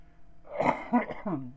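A smoker's few rough, close coughs in quick succession, gruff and throaty, with no talking around them.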